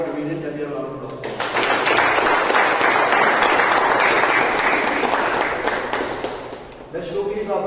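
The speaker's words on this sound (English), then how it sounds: "can we have a round of applause?" Round of applause from the audience at a Toastmasters meeting, loud continuous clapping that swells in after a moment of talk, holds for several seconds, then fades as a speaker resumes.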